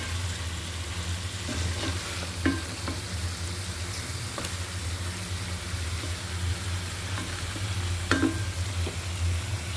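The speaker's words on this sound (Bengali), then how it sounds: "মাছগুলো দিয়ে মশলার সাথে নেড়ে মিক্সার করে কষিয়ে নেব" Tilapia pieces stirred and fried with spices in a pan, a steady sizzle broken by several sharp scraping knocks of the spatula, with a low hum underneath and no voices.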